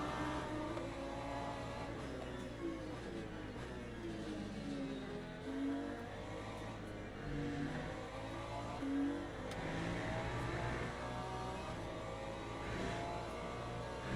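A Porsche race car engine in the Le Mans Ultimate racing game drones steadily and loudly throughout, its pitch sweeping up and down with repeated revving and gear changes, with no talk.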